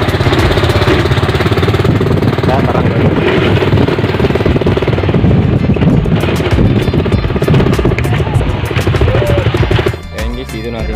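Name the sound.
motorbike engine running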